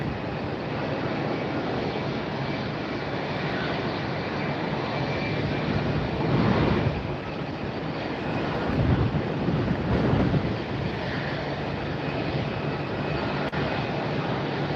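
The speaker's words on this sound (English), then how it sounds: "We got a couple of Southwest taxiing down now" Southwest airliners taxi at Tampa airport on a very windy day, producing a steady distant jet engine roar mixed with gusty wind rumble on the microphone, swelling slightly twice.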